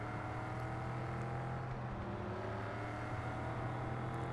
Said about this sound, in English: I love the sound of this thing. It is everything that I want audibly out of a muscle car